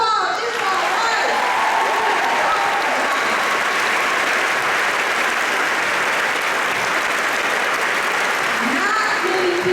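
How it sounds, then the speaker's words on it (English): A large audience at a 2018 TPS convocation applauds a singer. Loud, dense clapping continues without a break, close and sustained. "let's give her another applause"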